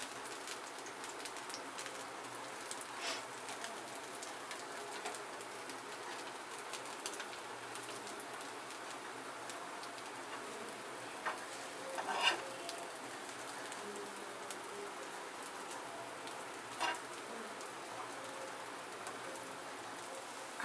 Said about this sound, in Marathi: एकदम कडक अशा चांगल्या भाजून घ्यायच्या बारीक ह्याच्यावर